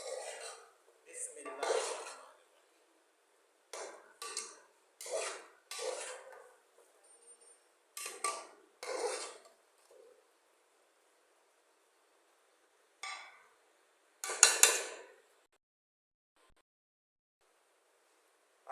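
Arvi curry stirred in a pot with a metal spoon, giving bursts of scraping and clinking that come in uneven strokes, close and fairly quiet, with a brief spoken word between them.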